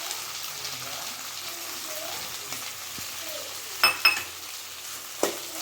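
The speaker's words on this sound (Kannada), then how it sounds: "ಈಗ ಕಟ್ ಮಾಡಿ ಎತ್ತಿಟ್ಕೊಂಡಿರೋ ಅಂಥ ಟೊಮೆಟೊನು ಹಾಕ್ಕೊಂಬಿಡೋಣ." Chopped tomatoes hit a hot pan for chicken liver gravy, giving a steady moderate sizzle that runs throughout, with a few sharp clinks and scrapes of a utensil near the end.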